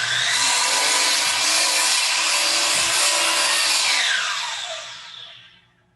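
A miter saw slices through wood without a zero-clearance insert, giving a loud, steady high-pitched whine for about four seconds that then winds down and fades as the blade spins to a stop.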